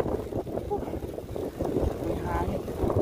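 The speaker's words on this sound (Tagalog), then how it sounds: "Grabe, lakas ang hangin." Strong headwind gusts buffet the microphone while cycling up a long hill, a loud, continuous rushing roar with uneven surges and no speech over it.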